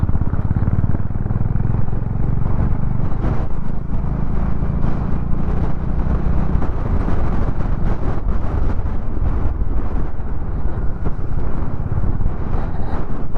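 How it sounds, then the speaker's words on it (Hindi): Cold wind roars steadily against the microphone during a motorcycle ride in Ladakh, a constant loud buffeting with engine rumble underneath and no break throughout. "मौसम कुछ आज ठंडा है, 9 बज गए हैं, अभी तक धूप नहीं निकली है और ठंडी हवा चल रही है।"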